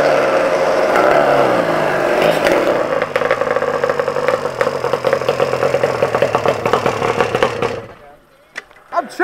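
Yamaha Banshee two-stroke ATV engines, tuned past 100 horsepower, roar and crackle loudly at close range, holding a harsh raspy drone before cutting off sharply near the end, leaving a few faint pops.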